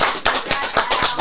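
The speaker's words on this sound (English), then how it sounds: "So let's give Al a warm applause, everybody." A few people clap on a podcast set, giving a short run of sharp, close, evenly spaced claps for about five beats.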